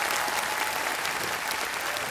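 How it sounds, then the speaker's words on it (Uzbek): Audience at a televised singing competition show applauds in a steady, fairly close burst of clapping that holds evenly throughout. "Olqishlab qo'yamiz."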